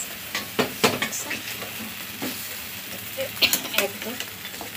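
A hot baghar tempering goes into a pot of nihari, with bursts of sizzling and stirring scrapes, fairly close and uneven.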